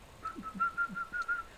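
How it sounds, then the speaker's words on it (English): A person whistles a short, bright tune of several quick, evenly spaced notes, alone and fairly quiet, with no talking. "You know what is whistle? Like this. Whistle. We call it whistle."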